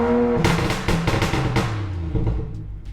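BMW 535i engine revved to about 3,000 RPM with anti-lag engaged, giving a series of sharp popping cracks over a rising engine tone that then settles to a lower idle rumble.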